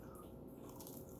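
Homemade battered fried shrimp, still in the shell, being bitten and chewed up close: a soft, quiet, moist crunch with no speech.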